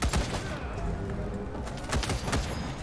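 Continuous rapid gunfire aimed at turrets in the video game Wasteland 3, loud dense bursts of shots overlapping throughout, with distant thuds beneath.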